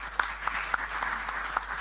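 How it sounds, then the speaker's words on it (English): Audience applause at the official opening of an annual general meeting, a steady dense wash of clapping from a large crowd with a few sharper claps standing out, no talking. "another big round of applause for our leaders panel"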